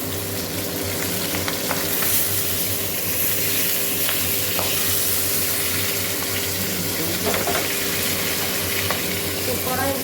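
Chicken frying in a pan sputters and sizzles continuously, with a constant background hiss and occasional sharper crackling pops, close by and fairly loud.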